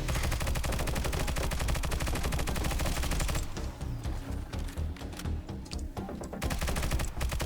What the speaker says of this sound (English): From there, you just keep shooting his lights.